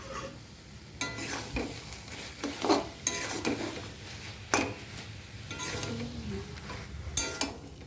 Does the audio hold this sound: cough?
no